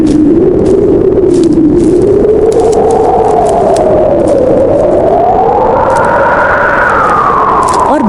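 A storybook wind effect howls as the rain begins, a loud, continuous wavering whistle that slowly rises and falls in pitch over a rough noisy bed.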